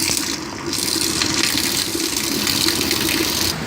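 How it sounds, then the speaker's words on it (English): Steady broadband rush of the Truckee River flowing in Reno, Nevada, loud and continuous throughout with no voices. "Here's some more of the Truckee River."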